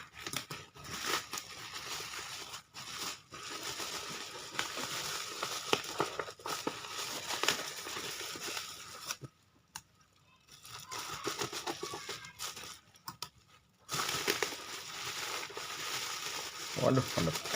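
Packaging from a mini CCTV camera crinkling and rustling as it is unboxed, with bursts of close crackling and tearing broken by short quiet gaps and occasional talk.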